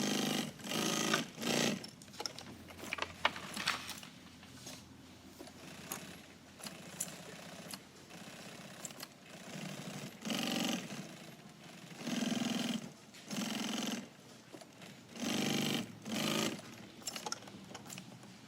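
A sewing machine stitches back tacks following marked points. It runs in repeated short bursts of rapid, whirring stitching, moderately close, with brief pauses between runs and no talking.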